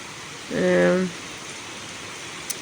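Heavy rain falls as a constant broadband hiss throughout, while a person briefly speaks over it near the start before the downpour continues alone.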